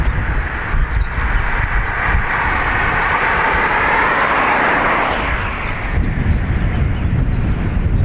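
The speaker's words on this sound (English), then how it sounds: "Aer Lingus off to Tenerife." An Aer Lingus airliner departing Dublin Airport for Tenerife gives a loud, sustained engine roar with a broad rushing swell that peaks midway and then settles, with no talking.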